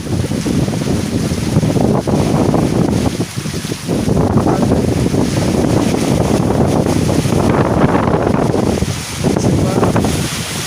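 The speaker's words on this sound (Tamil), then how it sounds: "காற்று கிழக்கிருந்து அடிக்கிறது" Strong easterly wind gusting hard and continuously outdoors, a loud roaring buffet with surges and brief dips, battering the microphone; no voices.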